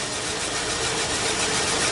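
Steady, smooth idle of a Caprice or Buick car engine with the choke off, a constant even hum with broad hiss and no changes in pace, heard alone.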